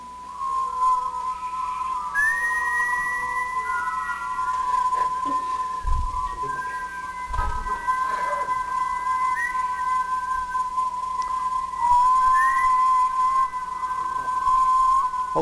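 A person whistles a steady, pure high note imitating a 1 kHz tone, holding it for several seconds with small wavers and a few brief breaks, close and fairly loud.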